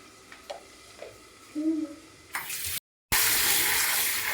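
Poha (flattened rice) being washed in water in a home kitchen, with soft splashing and sloshing that grows louder and ends in a sudden burst of running water.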